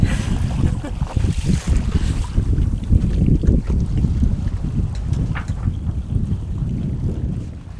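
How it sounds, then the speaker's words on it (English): A sailboat under way near Captain Cook Bay on the Big Island, with heavy wind buffeting the microphone and the rush and slap of water along the hull, loud and continuous. "We're sailing."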